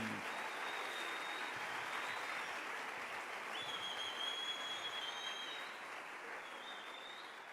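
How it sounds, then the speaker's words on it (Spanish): A church congregation applauds loudly and steadily for several seconds, a dense wash of clapping with a few whistles rising above it, tapering slightly toward the end. "Dale un aplauso bien fuerte al Rey."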